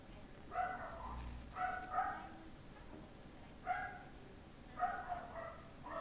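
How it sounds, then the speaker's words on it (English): A pet dog barks in bursts of two or three sharp woofs at a distance, over a quiet room background with no talk. "That's just my dog."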